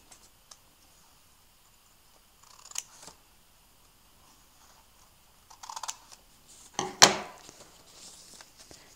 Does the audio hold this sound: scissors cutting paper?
yes